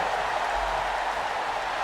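A large arena crowd in the WWE 2K24 wrestling game roars and cheers in a steady, dense wash of noise that fills the space continuously, heard at a distance with no clear voices on top.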